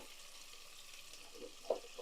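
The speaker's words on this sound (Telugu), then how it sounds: "ఆనియన్స్ వేసేసి కొంచెం సాల్ట్ వేసి మగ్గపెడదాం." Onions and green chillies frying in a pan for a Rayalaseema-style mutton curry, a soft steady sizzle with a few light stirring knocks toward the end.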